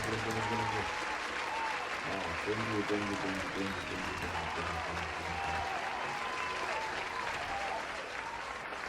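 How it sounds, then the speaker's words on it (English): A round of applause from a small audience claps steadily throughout, mixed with cheering voices, while someone speaks briefly over it. "give me a round of applause"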